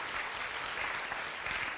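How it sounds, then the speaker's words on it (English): Audience at a motivational seminar bursts into steady, dense applause, a continuous wash of clapping from many hands that fills the whole short moment without a break. "So give He Ping a big round of applause."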